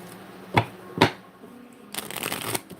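A deck of tarot cards being shuffled by hand, close up: two sharp riffle snaps, then a longer flutter of cards riffling together.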